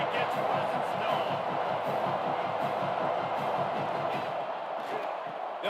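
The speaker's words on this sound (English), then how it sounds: "This crowd ready to make its presence known." Large stadium crowd at a Texas vs Gators football game, a dense continuous roar of cheering and shouting, loud and sustained with commentary voices over it.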